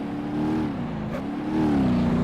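A Hirochi SBR4 affordable supercar from the 2013–2016 range accelerating in BeamNG.drive, its engine droning steadily and rising a little in pitch as the throttle opens, loud and close.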